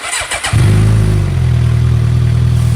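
A 2006 Suzuki GSX-R 750 motorcycle engine cranks briefly, then catches and settles into a steady, loud idle, close by.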